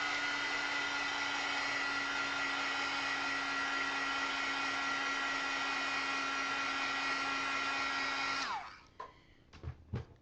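A heat tool heat-setting ink on a craft tag project blows as a steady loud whirring hum for about eight seconds, then shuts off, followed by a few faint handling clicks.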